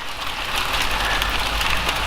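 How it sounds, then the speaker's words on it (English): Hail pelts down outdoors in a dense, continuous hiss and patter of icy pellets striking surfaces, steady and fairly loud with no voices over it. "Look at the hail."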